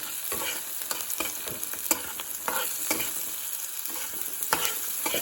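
Onion fries in a pan until it turns reddish-brown, a continuous close sizzle broken by frequent scraping strokes as it is stirred.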